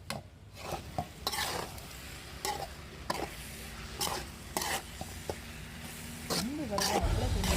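Kallalambu mushroom sukka stirred in a pan with a spoon, repeated scraping strokes over a soft sizzle, close and moderately loud, with brief clinks of utensil against the pan.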